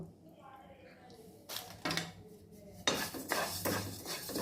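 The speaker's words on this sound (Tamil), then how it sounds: "அதை லேசாக சூடு பண்ணி வறுத்துருவோம்" Seeds are dry-roasted lightly in a pan while a spoon stirs them for a healthy laddu. Irregular metallic scrapes and clatters of the utensil against the pan come close by, with a voice speaking alongside.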